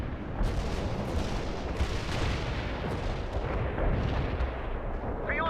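Artillery fire in World in Conflict, a continuous loud rumble of booming guns and explosions with no gaps, steady throughout.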